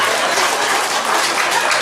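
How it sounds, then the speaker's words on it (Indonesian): A crowd at a parish pastor's anniversary celebration in a church community claps, a loud, dense, continuous round of applause with no pauses throughout the short stretch. "Tepuk tangan."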